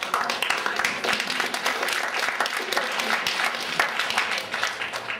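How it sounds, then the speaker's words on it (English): A roomful of people at a water-saving gardening event gives an extended round of applause, with dense, lively clapping and scattered sharp claps throughout at a moderate level. "I'd just like to give another round of applause to Pat"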